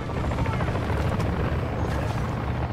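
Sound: helicopter in Call of Duty Modern Warfare III video game

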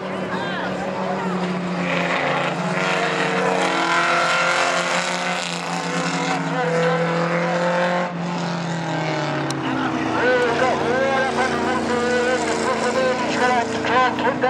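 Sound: race cars in a junior car race

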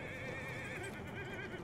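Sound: horse neighing in the Battlefield 1 video game

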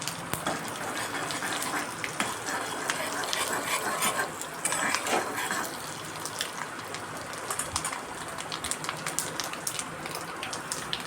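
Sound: tempering spices sizzling in hot oil

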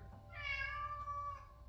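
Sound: cat meowing

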